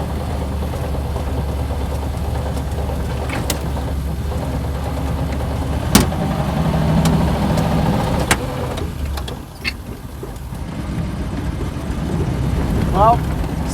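Engine of an old classic car with a struggling transmission chugging hard in second gear, a steady low drone with a sharp clunk partway through and people talking over it.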